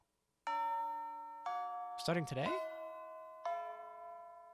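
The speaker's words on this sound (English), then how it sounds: "the final bell begins to chime, signaling the end of the school day" A school bell in the video game Fate/Extra chimes in sustained, ringing tones that sound one after another. A voice briefly talks over the middle of it.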